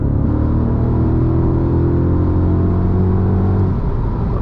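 A 15-year-old, 160,000-mile Audi RS4 engine pulling hard under acceleration with its warning light on, a loud close rising drone with strong low harmonics that climbs steadily, then eases off near the end.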